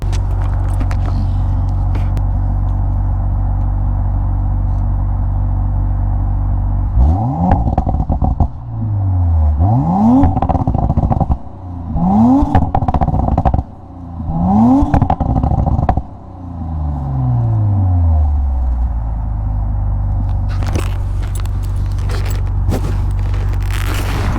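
An abandoned Audi RS5 engine idles and revs in several sharp bursts, each rise and fall distinct, with crackling exhaust pops between the revs, recorded close from behind the car.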